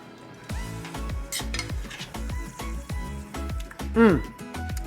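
A spoon scrapes and clinks against a pot of Colombian short rib beef stew with garlic, in rhythmic repeated strokes with a soft simmer beneath and a louder clank near the end; a voice talks over it.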